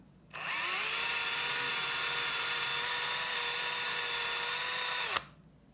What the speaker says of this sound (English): you can go ahead and drill it while it's drying, as long as you don't put your hands on that spot